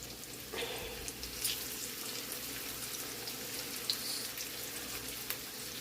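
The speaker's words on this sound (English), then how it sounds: "I'm gonna go ahead and fry this up." Meat frying on a stovetop at medium heat gives a quiet, steady sizzle with faint crackles and pops, heard alone with no voices.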